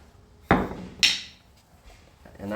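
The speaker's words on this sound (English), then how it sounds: "If you can't get it, just keep grabbing bigger hammers." Two sharp hammer blows on the rear suspension of a 1957 Chevrolet Bel Air land about half a second apart, each ringing briefly against metal before fading into quiet.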